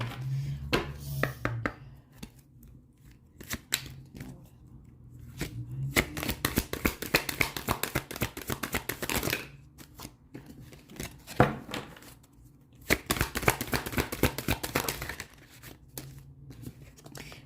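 Angel oracle cards being shuffled by hand during a pick-a-card reading, a papery riffle and slide in bursts separated by quieter pauses, close and clear with no talking over it.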